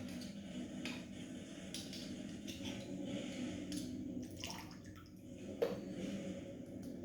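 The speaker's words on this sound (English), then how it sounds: "we'll fish them out and wash them off" Clams being washed in water, a low continuous sloshing with scattered drips and faint knocks of shells, fairly quiet and close, with one small clack near the end; nobody speaks.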